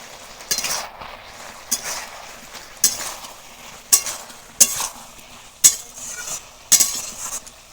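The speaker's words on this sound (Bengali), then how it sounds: "এবার এই মশলাগুলো সব একটু ভালো করে কষাবো" Spices with half a spoon of chilli powder being sautéed in a pan, a spoon scraping and clinking against the metal in a steady rhythm of about a stroke per second over a low sizzle, close by.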